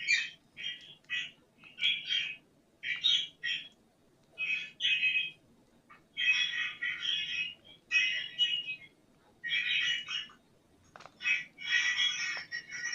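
Pet budgies during hand feeding give rapid, shrill chirps and squawks in short repeated bursts, fairly soft and close with brief pauses between calls.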